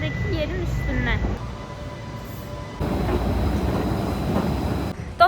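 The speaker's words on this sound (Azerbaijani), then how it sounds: "Metro xətti həm yerin altından keçir, həm də ki, yerin üstündən." A Vienna metro train runs with a steady, loud rumble and a constant mechanical hum throughout, with brief tonal sounds near the start and a short bump at the end.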